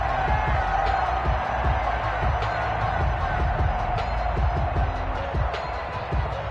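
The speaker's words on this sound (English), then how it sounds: "How about some applause for the defense there?" Crowd noise from a PS4 football video game after a defensive stop forces a fourth down, a steady roar of applause and cheering with scattered whoops throughout.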